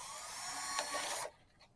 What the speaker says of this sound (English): I want to drill some holes here, here, here, here